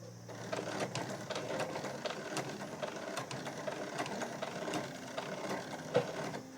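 A sewing machine stitches a square around a thick tucked fabric pouch, running in a steady mechanical whir with small clicks and ticks close up, with no one speaking.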